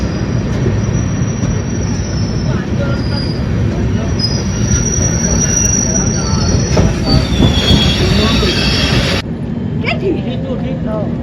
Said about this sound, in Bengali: বেলদা ছেড়ে বেরিয়ে যাচ্ছে ট্রেন